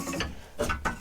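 Ratchet undoing a big nut on a VW Transporter T5 coil spring, giving a few close, loud bursts of rapid clicking separated by short pauses, with no talk.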